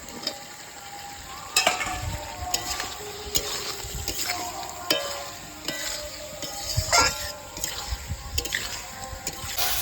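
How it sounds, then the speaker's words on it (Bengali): Jackfruit and potato stir-fried in spice masala in a pan, with a continuous sizzle and repeated scraping stirs of a spatula, no talking. "নেড়ে চেড়ে আরেকটু কষিয়ে নেব"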